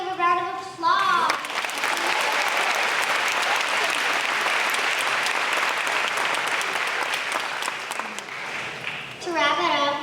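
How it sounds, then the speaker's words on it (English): An audience at a school staff appreciation event bursts into sustained, dense clapping that swells and holds for several seconds, with a speaking voice briefly before and after. "Yet again, let's give a round of applause."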